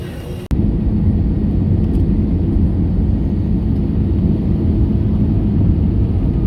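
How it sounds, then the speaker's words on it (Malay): An airplane engine roars loud and steady right after a brief quieter moment at the start, heard close up near the aircraft during a domestic pilgrimage trip in Terengganu. No voices. "Kapal terbang."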